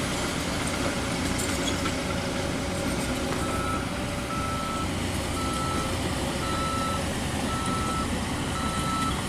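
Trucks reversing at a toll road exit construction site at night, where unloading and grading are under way, beep steadily as a repeating high tone over a constant low engine rumble and broad site noise.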